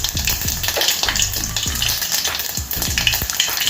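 Mustard seeds and cumin crackle and sizzle in hot oil, with busy popping and spitting over a steady frying hiss, close and loud.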